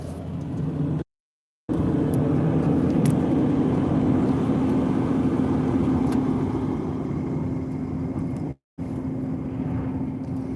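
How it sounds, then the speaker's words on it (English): Snow trucks drive past with a steady, loud engine and road rumble that runs throughout, broken by two brief gaps of silence. "Here's some snow trucks."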